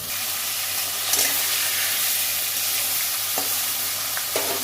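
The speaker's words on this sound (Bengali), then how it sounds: "মাছটা উল্টে পাল্টে ভালো করে ভেজে নেবো" Fish frying in a pan with a constant loud sizzle, broken by a few sharp clicks as the pieces are stirred and turned over.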